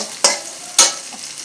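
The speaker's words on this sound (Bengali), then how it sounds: "দুই চামচ তেলের মধ্যে পেঁয়াজ দিয়ে দিব পেঁয়াজগুলো একটু ভেজে নিব" Onions fry in two spoons of oil in a pan for sweet pumpkin bhaji, giving a bright, steady crackling sizzle. Two loud spatula scrapes cut through it about half a second apart, close up and without speech.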